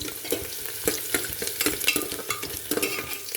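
Masala for a pounded roti chutney sizzles gently in a pan while a spoon stirs and scrapes in quick irregular strokes, close and steady with small metallic taps.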